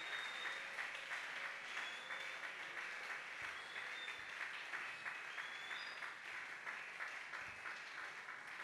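Steady applause from a church congregation, dense continuous clapping throughout, moderately distant and without talk.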